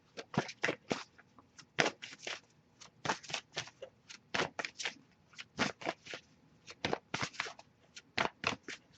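Rapid riffle shuffles of a card deck, crisp bursts of flapping cards repeating in quick irregular clusters, close and clear with no talking.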